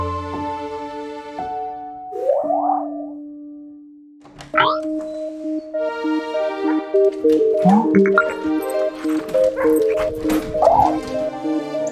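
Dogs at home letting out a few yips and barks, then drawn-out whimpers and whines, close by and fairly loud, with musical tones and electronic sounds around them.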